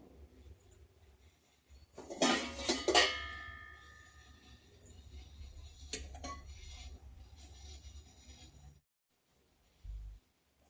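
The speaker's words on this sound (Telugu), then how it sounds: "స్టవ్ ఆన్ చేస్తున్నాను." A kitchen stove being switched on, with a cluster of clicking and metallic clattering, a later single click, and a short low thump near the end, all fairly quiet in an otherwise still room.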